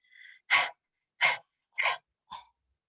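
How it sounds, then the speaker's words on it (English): Four short, sharp breathy bursts of yoga panting breath in a steady rhythm follow a faint whistly breath, close up with no talking. "start panting like a puppy"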